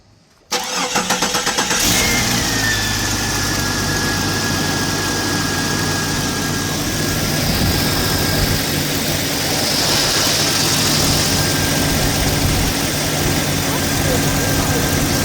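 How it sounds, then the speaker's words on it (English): A 1999 Jeep Cherokee XJ with the 4.0 engine, just fitted with a new crankshaft position sensor, cranks briefly and catches, then settles into a steady, loud, close idle with a faint high whine running through it. "let's go ahead and give her a crank"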